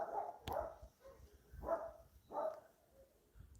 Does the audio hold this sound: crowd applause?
no